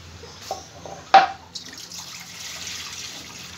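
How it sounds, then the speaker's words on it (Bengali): Water poured from a tap or vessel into a wok on a stove, a short splashing burst standing out near the middle, then a steady soft trickle and hiss continuing to the end, close and moderately loud. "আমি চুলায় একটা কড়াই দিয়ে নিয়েছি, এখানে আমি পানি দিয়ে নিব একটু।"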